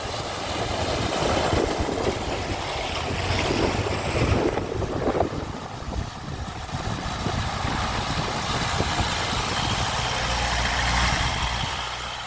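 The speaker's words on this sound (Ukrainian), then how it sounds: "Зараз будемо перевіряти в калюжах, туди-сюди, двома їдемо." An Isuzu pickup driving through puddles on a field, a continuous rough rush of engine, water and wind buffeting the microphone, loud and sustained throughout with no voices.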